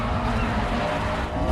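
Street race cars launch at the start of a race in the 2003 film 2 Fast 2 Furious, making a loud, close, continuous roar of engines that holds steady throughout with no voices.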